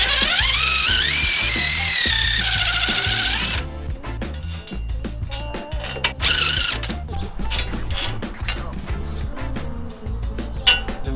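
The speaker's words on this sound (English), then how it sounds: "we're actually going to get the hole started with this titanium bit, and then we're going to expand it and countersink the screws with this expander bit" Titanium drill bit boring a hole into angle iron during a bench build: a steady high whine with rising pitch for about three seconds, then choppy bursts of drilling, clanks and handling noise.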